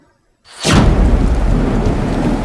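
A thunderstorm sound effect bursts in after a brief silence with a sharp crack of thunder, then rolls on as a loud, dense rumble mixed with heavy rain, close and continuous with no voices.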